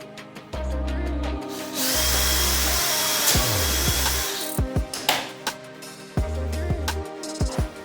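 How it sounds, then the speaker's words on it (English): A power drill drives screws into a mold head during an epoxy resin desk build, its motor whirring in several close, loud bursts of one to two seconds, separated by clunks and handling knocks. "you drill the screws into this head"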